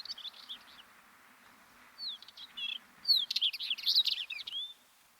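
Northern Wheatear calls on Bodmin Moor: a few short bursts early, then a denser run of high chirps and whistled notes in the middle of the clip, fairly close and clear against a quiet open-moor background.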